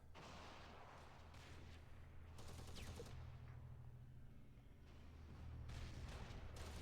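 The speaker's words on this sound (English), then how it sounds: "we're gonna right off the bat put some mortars on that ATG to try to clear up that AOA" Gunfire and mortar fire in the Close Combat war game: faint bursts of crackling shots and muffled booms at a distance, repeating in uneven clusters, with no talk.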